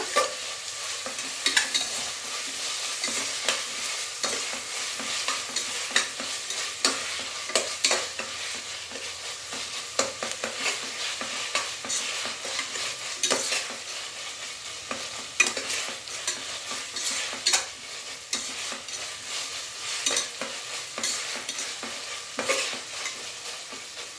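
Onions and ginger-garlic paste frying in a pan, stirred continuously with a spatula that scrapes and taps the pan in an uneven rhythm over a steady hiss, close up, with no talking.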